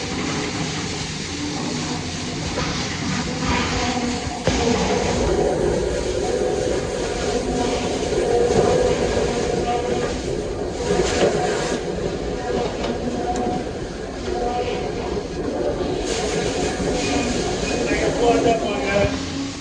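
A loud grain bin sump auger pulling corn runs nonstop with a heavy mechanical roar and rattling grind, constant throughout.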